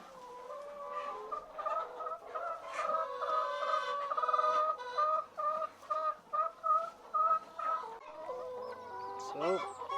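Hens cluck repeatedly in a steady, busy chorus, with a run of short evenly spaced clucks in the middle and a louder call near the end.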